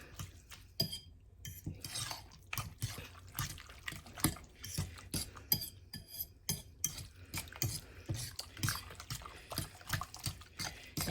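Seafood stuffing with lobster, shrimp and Old Bay seasoning mixed in a bowl, producing irregular wet squelches and soft clicks in a steady close rhythm, with no talk.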